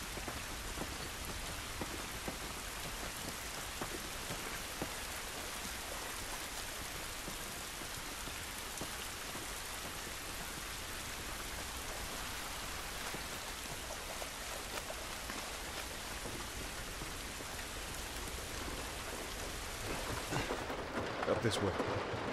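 Steady, dense rainfall pattering on surfaces throughout in the video game The Last of Us Remastered on PS4, a constant hiss with scattered drops, shifting slightly near the end.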